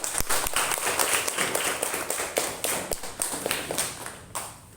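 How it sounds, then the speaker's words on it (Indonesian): A classroom group claps during a coaching lesson, with irregular sharp hand claps that start strongly and thin out toward the end, moderately close and fairly quiet. "tepuk tangan buat kita semua"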